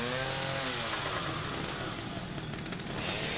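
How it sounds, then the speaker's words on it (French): Chainsaw revving in the survival horror video game The Evil Within, a loud, continuous buzzing engine roar that holds steady and fills the whole moment. "maintenant, nous allons utiliser cette putain de tronçonneuse"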